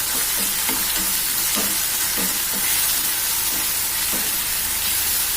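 Onion, tomato and ginger-garlic paste with mustard and fennel seeds sauté in oil in a pan, a loud continuous sizzle with repeated scraping strokes of a stirring spoon in a loose rhythm.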